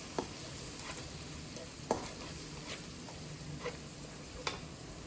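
Freshly pounded ginger garlic paste is stirred into a bendi fish curry masala, giving a soft, steady sizzle with a few sharp spoon taps against the pan at intervals.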